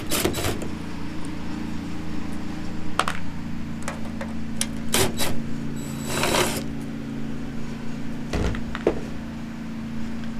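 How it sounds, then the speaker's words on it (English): Ratcheting and whirring of a tool loosening two 8mm bolts on the brake lights of a Ford F250 Super Duty pickup, in short irregular bursts with clicks, over a steady background hum. "take off these two 8mm bolts to remove the"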